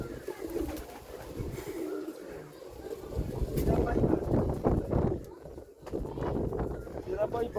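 Prize-winning racing pigeons coo in low, repeated bursts from close by, while someone talks over them for much of the time.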